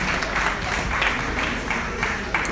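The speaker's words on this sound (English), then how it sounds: "Let's clap one more time for Mrs. Miriam Benkiti." Sustained audience applause fills a women's empowerment event at an event centre, a dense, steady wash of clapping from a large crowd held at even loudness throughout.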